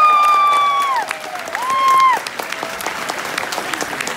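Concert audience at a country duo's show in Warsaw applauding a band member, steady dense clapping with some cheering, while a held sustained tone fades out at the start.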